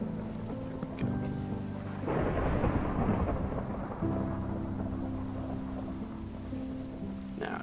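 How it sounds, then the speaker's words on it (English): In the video game Minecraft, a thunderstorm rolls in: a heavy thunder rumble swells over steady rain, backed by a faint, sustained musical tone. "Now its transition to a thunderstorm."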